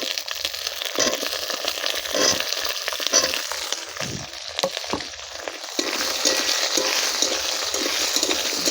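Capsicum fries in a pan for a meatless chilli chicken dish, giving a close, busy sizzle broken by stirring scrapes and crackles.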